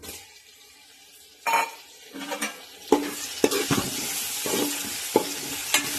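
Tomatoes sautéing in a hot pan for a Chettinad pepper chicken, with several bursts of scraping stirring over a soft sizzle.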